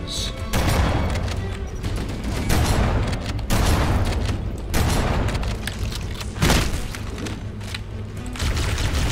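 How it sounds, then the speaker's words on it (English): Repeated booming blasts and bursts of gunfire in Halo: Combat Evolved Anniversary, loud and dense, with heavy impacts recurring every couple of seconds over continuous combat noise. "Explosion."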